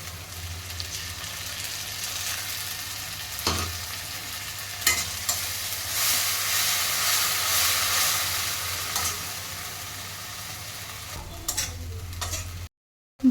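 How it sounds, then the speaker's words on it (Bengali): Garlic and tomato paste fry in a pan while being stirred, a continuous close sizzle broken by a few sharp spatula knocks, ending abruptly in a brief silence. "কিছুক্ষণ ভেজে নিতে হবে যাতে রসুনের গন্ধটা না থেকে যায়"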